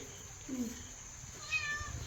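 A cat meows softly indoors, giving two brief, faint calls over low background noise.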